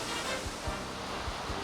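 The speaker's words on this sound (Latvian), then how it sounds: "Vairāki ūdenskritumi gāžas no 150 metrus platas un 700 metrus garas U-veida klints" Broad, steady roar of the Iguazu waterfalls pouring down a wide U-shaped cliff, a constant wash of rushing water with soft low thumps beneath.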